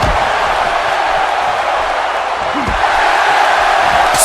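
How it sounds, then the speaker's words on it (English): A crowd at a fighting tournament match, a loud, steady roar of cheering and shouting that holds at constant strength, with occasional whoops rising from the mass of voices. "This crowd is completely incensed for these two fighters in this matchup"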